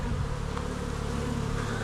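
Honeybees at a big, strong hive keep up a thick, unbroken buzzing drone, near and even throughout.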